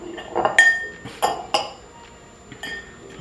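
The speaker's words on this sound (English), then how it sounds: "Stir that up a little bit." Egg salad is stirred in a bowl with a utensil, producing a few close clinks and scrapes against the dish in short irregular bursts.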